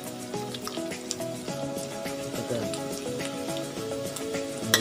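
Garlic and vegetables sizzle steadily in a hot wok for pinakbet, with a dense close frying crackle broken by clinks from a stirring utensil, and no talk.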